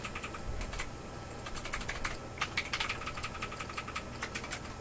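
Someone types on a computer keyboard, producing bursts of quick clicky keystrokes in irregular runs over a low background hum, moderately close with no talking.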